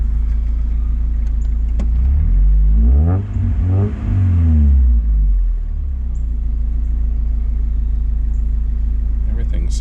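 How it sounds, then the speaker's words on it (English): A Mazda Miata engine with a suspected blown-engine problem cranks, catches and revs, the pitch sweeping up and down loudly and close before settling into a steady low idle. "I decided just to go ahead and try to start up the car again"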